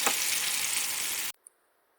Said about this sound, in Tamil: எண்ணெய் நல்லா சூடாக இருக்கிறதுனால ஊற்றினோன்னா நல்லா இந்த மாதிரி சத்தம் வரும்.